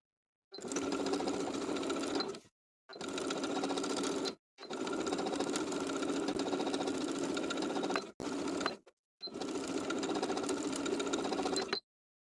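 A sewing machine zigzag-stitches elastic onto a swimsuit neckline, running in four steady bursts separated by short pauses, close and clear with no talking.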